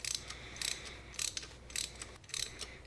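Five quick bursts of ratchet clicking come in a regular rhythm, close and fairly quiet, as a cylinder head temperature sensor on a 2010 Ford Focus is tightened down.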